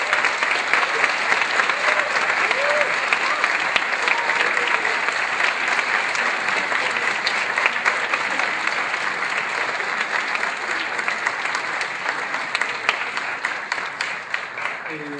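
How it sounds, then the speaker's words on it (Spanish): Seminar audience applauding warmly at a closing session, a dense steady wash of many hands clapping that holds loud and even throughout, with faint voices beneath. "Yo les pediría un caluroso aplauso"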